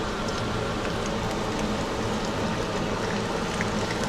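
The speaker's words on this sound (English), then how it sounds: "Just want to make sure it sizzles like that." Fish pieces frying in hot oil in a pot, a steady dense crackling sizzle with no pauses, close and fairly loud, no voices.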